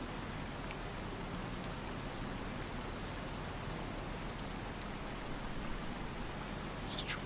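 Steady rain falls in the Farming Simulator 25 video game, a continuous even hiss of drops that holds at moderate level throughout with no voices over it.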